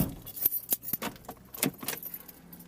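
Car keys jangling close by as a car's ignition is switched on, a run of bright metallic clinks and rattles in quick irregular bursts, fairly quiet and without speech.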